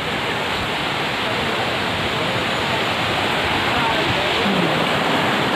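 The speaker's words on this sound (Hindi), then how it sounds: "देखिए ये बड़ा सा वाटरफॉल का झरना पानी यहाँ से लहराते हुए आते हैं" A large waterfall at a picnic spot in Karbi Anglong, Assam, pours down in a steady, dense roar of cascading water that fills the whole scene continuously, loud and close, with no other sound standing out.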